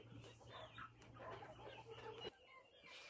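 A rooster clucks and mutters in a few short, throaty bursts at close range, with faint barnyard background.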